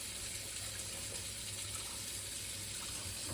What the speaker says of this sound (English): So we'll get a little bit of cold water in there.